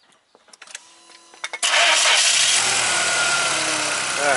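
A VW MK4 Golf/Jetta GTI engine cranks and catches after a few clicks and knocks, then settles into a steady close idle with slight revving while the car is shifted between drive and reverse.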